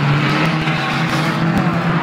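Saloon stock cars racing on a short oval, engines roaring loud and continuous with a steady drone and revving surges close by, no talk.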